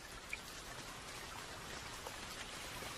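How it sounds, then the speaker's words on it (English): Steady rain falls in an even, dense hiss of drops, with a faint patter throughout and no voices. "as a steady rain fell in the Sierra Nevada"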